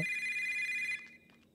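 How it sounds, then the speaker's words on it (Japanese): A payphone rings in the horror game Yomawari 3, a bright electronic trill sounding steadily for about a second before cutting off, with faint soft sounds trailing after. "公衆電話が鳴ってんの"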